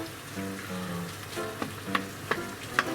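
Tofu stir-fried over high heat in a pan, letting its water cook off: a steady close sizzle with scraping and a few sharp spatula knocks near the end, no voices.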